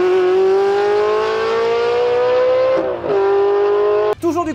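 A Ferrari 360 Challenge Stradale engine revs loudly and close, its pitch climbing steadily, then a brief dip and recovery before a sudden cut-off into short, uneven blips.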